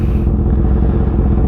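A 2025 Kawasaki ZX6R motorcycle engine drones loud and steady on a night ride, a continuous close rumble with no talking.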